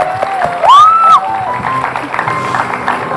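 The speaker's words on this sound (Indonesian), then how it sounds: "Ya, tepuk tangan yang meriah." A studio audience at the Indonesian talk show Hitam Putih breaks into applause, a rising shrill whistle cutting through early on. Voices continue beneath the clapping as it carries on at an even level.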